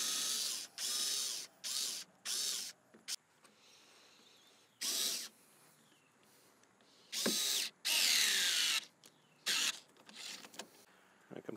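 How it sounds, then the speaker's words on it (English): A power driver drives side screws into the bumper of a 2014 Subaru Forester in a string of short, close, whirring bursts separated by quiet gaps. "And we'll put our side screws in."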